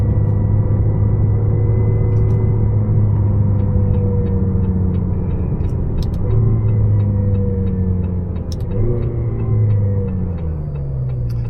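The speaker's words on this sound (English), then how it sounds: "Oh yeah, and we got the famed McLaren power steering whine." Inside a 2022 McLaren GT on the move, the power steering gives a faint tonal whine that rises and falls over a loud, steady road and engine rumble.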